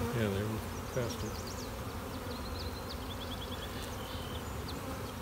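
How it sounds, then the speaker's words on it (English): Honey bees hum around an open hive during a hive inspection with an emergency supersedure and virgin queens, a close, continuous buzz with a brief voice at the start. "They're a little bit more shaky, these bees. They're moving around a little bit more."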